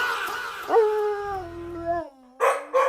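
A dog gives a drawn-out howl that bends in pitch, then breaks into two short sharp barks, close and loud with no talking.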